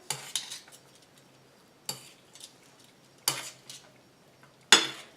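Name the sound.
tossing liver with garlic in a pan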